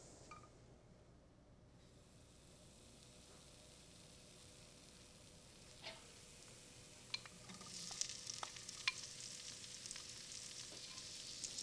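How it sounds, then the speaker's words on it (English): Berries sautéing in butter in a pan give a faint sizzle that is almost silent at first and swells into a steadier, brighter hiss in the second half, with a few small clicks and taps. "So I'm going to saute the fruit first"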